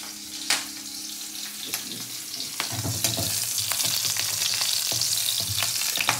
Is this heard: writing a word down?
no